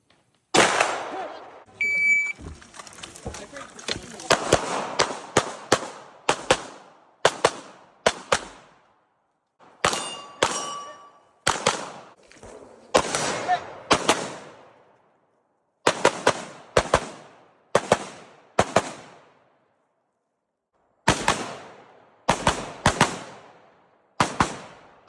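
Rapid strings of sharp gunshots at a 3-gun match, fired in quick bursts with short pauses between strings, with brief metallic pings from steel targets and an electronic timer beep near the start.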